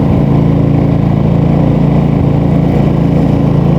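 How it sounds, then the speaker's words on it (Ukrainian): A Kraft&Dele KD186 generator engine runs loud and steady nearby, a continuous low mechanical drone with an even rhythmic chug and no talk over it. "Вмикаємо ще раз генератор."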